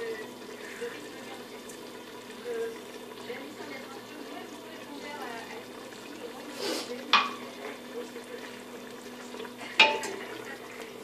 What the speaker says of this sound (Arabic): وغنقلب اللحم ديالي